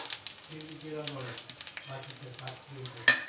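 Curry leaves crackle and sizzle in hot oil with golden-browned garlic for a kadhi, a steady frying hiss with bright spits near the end, heard under a voice speaking.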